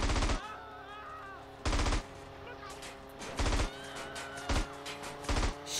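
Bursts of gunfire from the video game GTA San Andreas, five loud broadband volleys spaced about a second apart over steady background game music and ambience.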